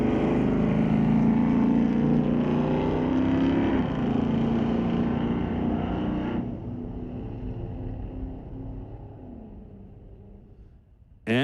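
A Chevelle and a ragtop Mustang drag racing at Mission Raceway Park, loud sustained engine roar that holds high, then drops as the cars come off the gas and coast, fading before a sudden burst at the end.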